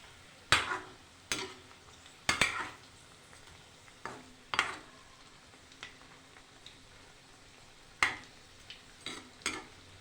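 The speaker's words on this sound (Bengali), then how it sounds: "বেশ সুন্দর লাল লাল করে আমি ভেজে নেব" Potatoes frying in a pan and turned with a utensil, giving scattered sharp scrapes and clinks over a soft background sizzle, close and fairly quiet, with no talking.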